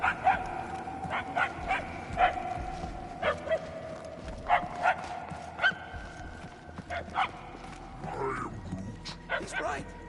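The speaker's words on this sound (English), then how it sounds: "The barking is getting fainter." In the video game Guardians of the Galaxy, a dog barks and yips in short, scattered bursts amid game ambience, with characters talking and a whimpering, wavering cry near the end.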